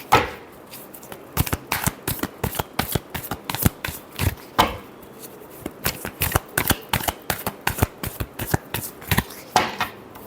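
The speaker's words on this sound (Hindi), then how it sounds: "Last shuffle." Tarot cards being shuffled by hand, a long run of crisp riffling bursts in quick uneven rhythm, close and clear with no voices.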